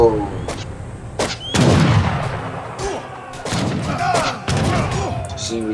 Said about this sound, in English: We can start shooting them from the distance.